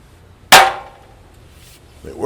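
An old hammer on a very long handle found in a parents' shed strikes something once, a sharp close metallic crack that rings briefly and fades, followed by a short rising voice at the end.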